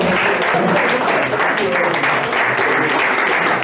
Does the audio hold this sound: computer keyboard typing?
no